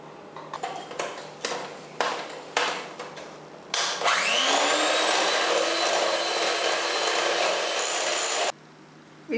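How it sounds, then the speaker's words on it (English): An electric mixer beats softened butter with caster sugar for a vanilla sponge cake. A few sharp taps and clicks come first, then a loud, steady motor whir runs for about five seconds before cutting off. "Now I'll add this 3/4 cup of caster sugar to this and we'll beat it till smooth."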